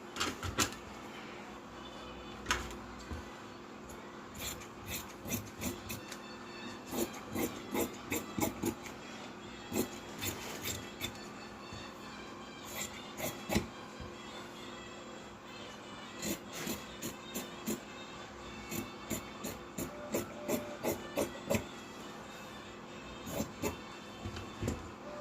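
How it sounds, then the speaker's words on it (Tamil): Scissors snipping through blouse fabric at a tailoring table, a long run of short crisp cuts in uneven clusters, close and fairly quiet with no talk. "இப்போ ஃப்ரண்ட்டை கட் பண்ணி எடுத்துடலாம்."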